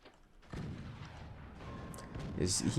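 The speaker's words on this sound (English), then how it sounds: "That's a good mortar volley." Mortar volleys fire in the Forts video game, with heavy thumps and muffled booms starting early and a louder burst of impacts near the end, all under someone talking.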